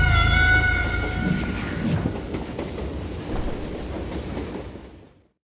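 A train rolls on rails in the western video game Call of Juarez Gunslinger, a loud, close rumble with a high squeal at first, then rhythmic clatter that fades away to silence at the end.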